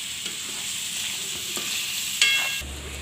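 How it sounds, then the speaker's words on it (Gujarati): Muskmelon (shakar teti) curry frying in oil in a pan, a steady close sizzle with stirring scrapes and a sharper clatter near the end, no talking. "હવે આપણે આને તેલમાં સરવા દેવું"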